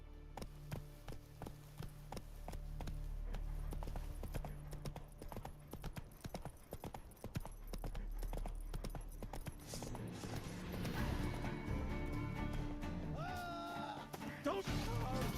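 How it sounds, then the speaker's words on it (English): Horse hooves clip-clop steadily in a fantasy video game, a rhythmic trotting run of close, clear footfalls that keeps going through the whole stretch while music and other game sounds rise behind it later on. "There's our faithful steed roach."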